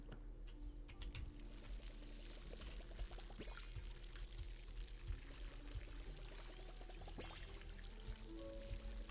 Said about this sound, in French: on va aller mettre de l'eau dedans